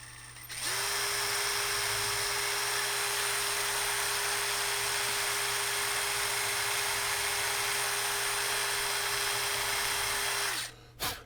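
A power drill whines steadily and loudly for about ten seconds while drilling into metal on an 1891 Mosin-Nagant rifle, a constant high-pitched grind over a low motor hum, then stops abruptly.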